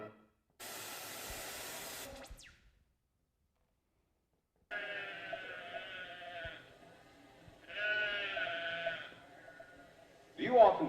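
Sheep bleat in a few separate drawn-out calls, the first alone, later ones after a silent gap, fairly close and clear against a quiet background.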